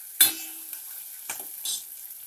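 Onions, green chillies and curry leaves hitting hot oil in a pan, an initial sharp crackle settling into a steady hiss with a few stirring scrapes.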